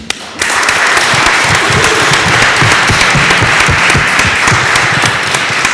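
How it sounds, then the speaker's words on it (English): A large conference audience bursts into loud, sustained applause that sets in abruptly and holds steady with dense, even clapping, close and full throughout. "I think this was the final applause of this conference"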